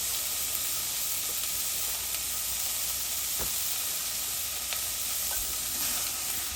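Onions frying in a hot pan give a continuous bright sizzle and hiss, with occasional soft clicks and pops from stirring, close and steady with no talking.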